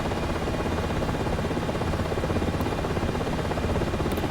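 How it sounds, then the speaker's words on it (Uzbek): Marine One helicopter in the flight simulator Aerofly FS Global over Washington near the White House, a dense continuous rotor and engine roar, loud and steady for the whole stretch with no voices. "aynan Oq uyni hovlisiga ham qo'ndirib ko'ramiz vertolyotni"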